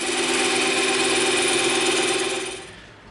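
A steady, loud buzzing motor whine while a tool cuts the handle off an EVA foam gel gun, winding down near the end.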